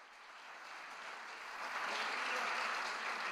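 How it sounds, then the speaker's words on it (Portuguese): Church congregation clapping during a worship service, a broad steady patter of many hands that swells slightly louder partway through and holds, with no voices over it. "Diga glória a Deus e aplauda Jesus nessa noite."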